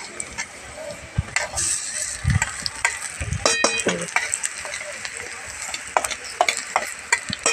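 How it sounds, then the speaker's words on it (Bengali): A blended paste fries in a pan with garlic, dried chili, onion and mustard, sizzling steadily while a spoon stirs and scrapes in irregular clicks and knocks, close and continuous. "ভালোভাবে নাড়া দিয়ে ভেজে নিতে হবে।"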